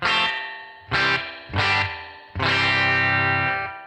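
Four loud guitar chord stabs through a single A-type spring reverb, each followed by a bouncy, splashy tail that rings and wobbles before fading, the last one held longer.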